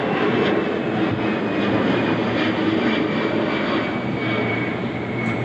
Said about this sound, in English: Give me a moment while I let the plane pass overhead.